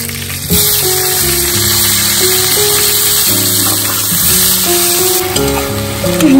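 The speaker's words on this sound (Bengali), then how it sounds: "শুকনো লঙ্কা রসুন ফোড়ন দিলাম, আর বেগুন দিয়ে শাকটা করলাম" Fenugreek greens cooking in a pan with dried chili, garlic and brinjal give off a loud, continuous sizzle and crackle, with a faint steady tonal hum in the background and no speech.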